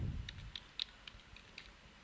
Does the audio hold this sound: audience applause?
no